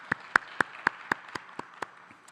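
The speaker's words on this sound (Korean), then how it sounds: "우리 하나님께 영광의 박수 같이 함께 올려드리시죠." Church congregation applause comes through as about nine sharp, evenly spaced claps that fade toward the end, sounding sparse and somewhat distant.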